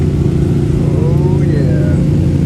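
A Jeep engine runs loud and close on an off-road trail, a steady low rumble with slight rising revs, wind buffeting over it; a voice can be heard faintly.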